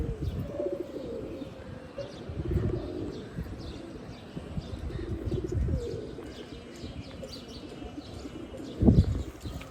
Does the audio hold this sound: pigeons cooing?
yes